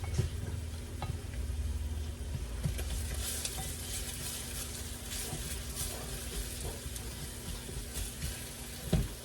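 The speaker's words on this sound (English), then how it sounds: "We're just cooking the onion up some." Onion frying in a pan for a leftover-rice dinner gives a steady, close sizzle throughout, with occasional soft clinks and stirring noises and no voices.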